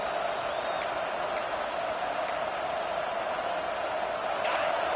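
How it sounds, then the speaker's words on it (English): At a Clemson football game, the home crowd holds a loud, steady, continuous roar, with occasional whoops rising above the wash of noise. "Decibels rising as the crowd gets behind this defense on third down"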